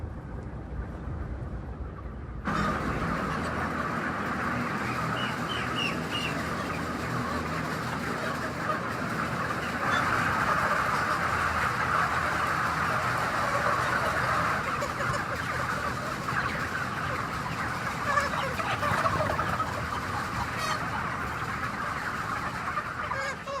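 Dense chatter of chickens fills a large poultry barn housing tens of thousands of broilers in Mato Grosso, Brazil, a steady crowded din that swells slightly midway, with no talk over it.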